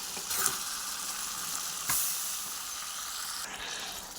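Whole chillies hit hot oil in a pan, a close, bright sizzle that flares at the start and stays as a steady hiss, with a second small flare partway through.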